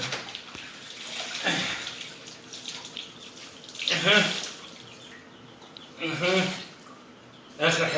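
Running water during rinsing, intermittent gushing bursts of splashing and pouring close by between quieter stretches, with speech present at times.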